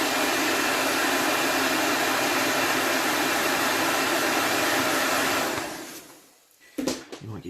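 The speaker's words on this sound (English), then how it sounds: "we're just going to give that a quick blast with a hairdryer" Hairdryer blasting air over freshly painted Nighthaunt miniatures: a loud, steady whoosh running close for over five seconds, then cutting off, followed by a few faint clicks and handling noises.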